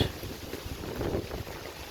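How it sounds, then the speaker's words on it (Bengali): Strong wind sweeps across open rice fields on a rainy day, a blustery rumble buffeting the microphone with fluctuating gusts, fairly faint and without voices. "বাতাস প্রচণ্ড বাতাস"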